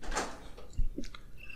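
A large door opening in the Resident Evil Director's Cut video game, heard as a short scraping swish followed by a low thud and a few faint clanks.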